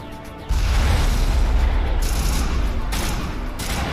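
Video game gunfire starts as a sudden, loud, dense fusillade and continues as a sustained roar of shooting and booming, with low rumble throughout and brief shifts in intensity.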